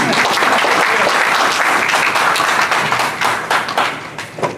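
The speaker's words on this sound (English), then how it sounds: "Let's give a round of applause to Darius." An audience at a Father's Day breakfast applauds a guest speaker, Darius Cooper, with steady, dense clapping from a crowd that thins into scattered, uneven claps toward the end.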